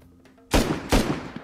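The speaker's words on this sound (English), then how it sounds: "He's getting shot at." Gunfire in the console edition of Rust, a survival video game: two sharp, loud shots about half a second apart, followed by quieter trailing noise, with no talk over them.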